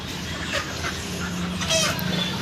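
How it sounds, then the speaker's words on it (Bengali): Local desi chickens cluck softly at a market stall beside a broiler shop, a few short scattered calls over steady background noise. "এদিকে যে দেশি লোকাল মুরগি কি সুন্দর করে আছে"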